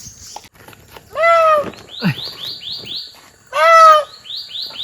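A bird calls nearby in two loud, rising, harsh cries, separated by quick repeated chirps and soft rustling in between.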